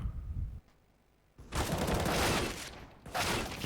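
Pistol fire from a Glock in a Counter-Strike match, a short burst of shots near the start, then after a pause two loud sustained bursts of close gunfire with no talking.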